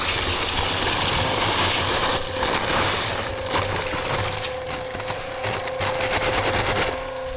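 A concrete mixer drum spins with a steady heavy rumbling churn, loud and continuous up close, with a faint tonal hum riding over the grinding wash.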